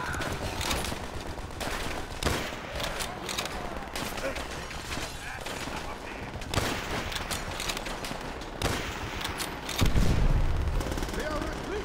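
Battle gunfire in Call of Duty: World at War, a dense continuous fusillade of rifle and machine-gun shots with booming blasts, under shouted voices throughout.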